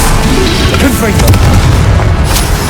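A loud booming blast from a Confringo spell explosion in the video game Hogwarts Legacy, heavy and rumbling, sitting on a continuous dense bed of game noise.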